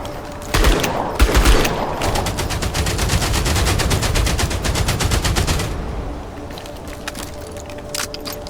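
Automatic gunfire at enemies in Outpost Infinity Siege, a sustained rapid machine-gun burst of evenly spaced loud shots lasting several seconds, then a few scattered distant shots.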